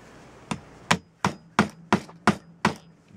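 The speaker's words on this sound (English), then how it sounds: "I hammer the staple right down through to the other side and then bend it over" A hammer drives a staple into a wooden Victor rat trap, making seven sharp, evenly spaced knocks close to the listener with no talking.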